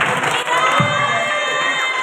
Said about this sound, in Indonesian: Tepuk tangan luar biasa Ira